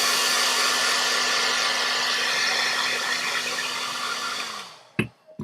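A hair dryer blows steadily and loudly while drying a handmade plant pot craft label, then switches off and winds down, leaving a few faint clicks and handling knocks.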